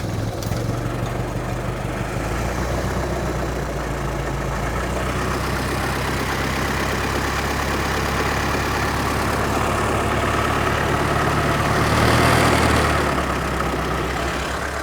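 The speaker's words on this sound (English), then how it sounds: "We'll let the engine warm up now and we'll double and triple check, make sure there's no water leaks." Ford Model T engine idling while warming up after a cooling system flush, a steady low rumble that runs close and even throughout, with no talk.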